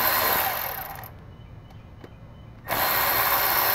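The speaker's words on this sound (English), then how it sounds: "So I'm gonna grab my electric drill, make this process a little faster" A power drill whirs loudly unscrewing a 10 mm bolt on a 3.6L Pentastar V6 engine, cuts out into near silence for a second or so, then spins up again at full speed.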